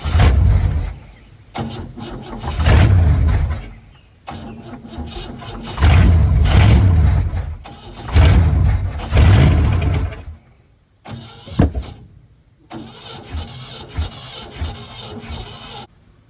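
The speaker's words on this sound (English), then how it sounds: "I think we may be losing ignition right after it cranks. It sure wants to keep running." A 1959 Cadillac barn find with a V8 engine cranks repeatedly in loud, rough bursts, catches briefly with a sputtering roar, and dies each time, with short gaps of quiet and scraping between attempts.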